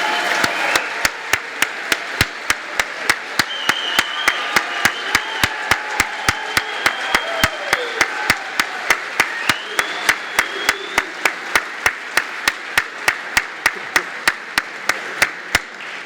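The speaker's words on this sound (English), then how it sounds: "please stand up so we can give you a very well-deserved round of applause" Audience applause at the Northeastern Athletics 2023 Hall of Fame induction ceremony rises for a standing group and holds steady for sixteen seconds, with a dense wash of clapping cut by sharp, evenly spaced clicks.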